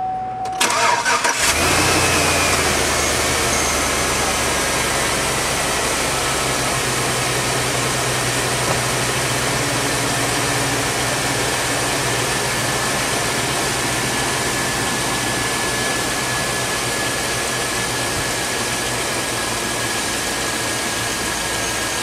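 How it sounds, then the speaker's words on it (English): A 2003 Chevy Avalanche engine cranks briefly and catches after about a second, then settles into a steady, close idle that continues to the end with no talking. "let's go ahead and start it up and see if it either flies apart or if it runs properly"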